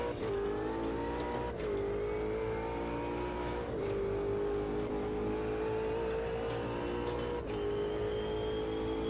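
GT race cars on the Silverstone straight in Automobilista 2 scream loudly in high gear, the engine note climbing steadily with three sharp upshifts breaking the pitch.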